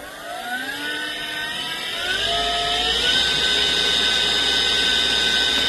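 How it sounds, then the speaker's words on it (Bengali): A Pulsar Gold electric motor spins up with no load to its top speed of about 3810 RPM, its whine climbing in pitch over the first seconds before settling into a loud, steady high-pitched hum. "তো আমরা এই মোটরটার একটু আরপিএম চেক করি, সর্বোচ্চ আরপিএম কত পাওয়া যায়।"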